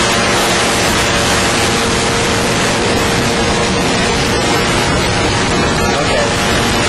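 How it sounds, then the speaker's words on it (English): A motorboat driving on Lake Shasta gives a loud, steady, unbroken roar of engine, wind and rushing water close to the microphone, with voices talking underneath. "Lake Shasta. I'm driving my boat,"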